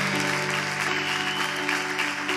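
A church audience applauds during a Portuguese-language sermon, producing a continuous, even wash of clapping over sustained steady background tones, with no speech.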